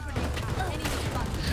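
Gunfire in the tactical shooter game Valorant: dense bursts of shots rattle steadily at a moderate, even level with no pauses, as a voice speaks over the firing.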